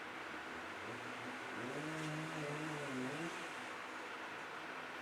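A neighbor's chainsaw runs outdoors at a distance, its motor rising and falling in a couple of revving swells over a steady background hiss, faint and muffled with no talking.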